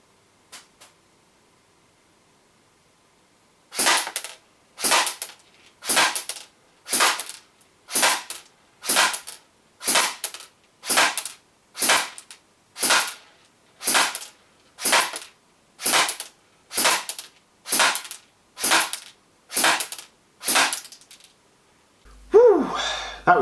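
A Classic Army PX9 airsoft pistol fires .2 BBs in a long string of about sixteen sharp, snappy shots spaced roughly a second apart, close and loud, followed by a brief rustling handling noise at the end.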